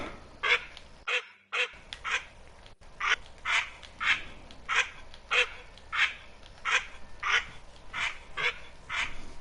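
Green-winged teal ducks call in the hunting game theHunter: Call of the Wild, set in the Mississippi Acres reserve, sounding as a long, steady series of short, evenly spaced nasal whistles that are clear and close with no talking.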